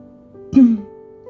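A single short throat clearing, close and distinct, over quiet background.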